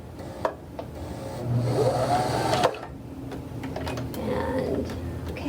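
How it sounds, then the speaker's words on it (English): Home sewing machine back stitching through scrunchie fabric, a busy mechanical whir with a brief speed change midway, close and steady, with light room noise and a voice murmuring in the background. "I'm going to back stitch a little bit there at the end"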